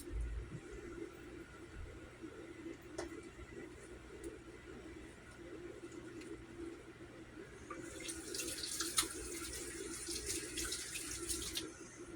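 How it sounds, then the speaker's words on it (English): Kitchen tap running into a sink while hands are washed, a steady low gush of water that grows to a louder splashing stream near the end, with no talking. "let me get my hand washed up here"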